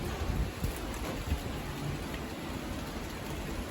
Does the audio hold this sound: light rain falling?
yes